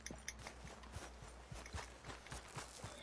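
Faint, uneven horse hoofbeats in a video game clop along at a walking pace near a train track, quiet and somewhat distant with a low background hum.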